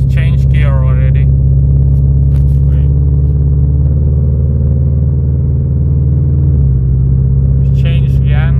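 A 2013 Toyota FT86 automatic with a Motec M150 plug-in harness drones steadily and loudly from inside the cabin while driving. Partway through, the engine note drops as the transmission shifts gear, and voices briefly talk at the start and end.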